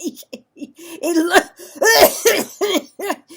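A voice imitates coughing, a series of harsh throaty coughs and splutters, close and loud, broken by short gasping breaths.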